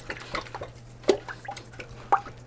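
A varnish brush is worked in soapy water, giving soft, irregular splashes, drips and squishing close by, with a few sharper sloshes and faint clinks.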